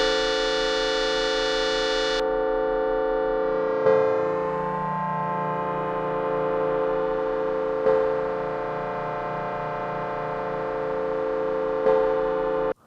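Sustained techno pad synth run through Ableton's MS2 filter with its drive stage, a thick, distorted harmonic drone with a few soft swells that cuts off abruptly at the end, no voices.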